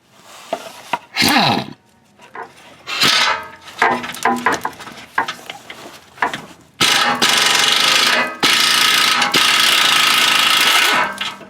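An impact wrench works on the catalytic converter bolts of a 1999-2000 Honda Civic EX with a 1.6 D16Y8 engine, with scattered clanks and ratcheting before a long, loud, steady hammering burst that runs for several seconds.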